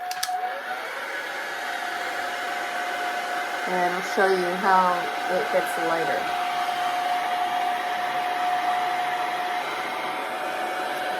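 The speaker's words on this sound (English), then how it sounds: "So I'm going to take a hairdryer to this." A hairdryer blows steadily over watercolor paint on paper, a constant whooshing hum with a high whine, close and even throughout, while a person speaks briefly over it in the middle.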